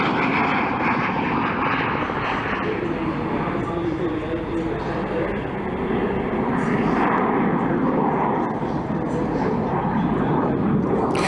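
A Harrier jump jet makes a high-speed pass at an air display, its engine a loud, sustained rumbling roar that stays broad and even throughout, with someone commentating over it.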